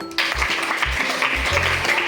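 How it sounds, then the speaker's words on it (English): Students in a high school activity hall clap together in a sustained wash of applause, with soft low thumps pulsing underneath and no talking. "You clap to it."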